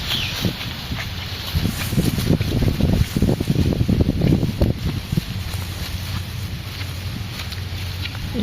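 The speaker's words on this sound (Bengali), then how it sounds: "একে তো বৃষ্টি, তারপরে এখনো অনেক বাতাস" Strong wind buffets an island shoreline after rain, a continuous rushing roar with gusty surges and heavy low rumble across the microphone.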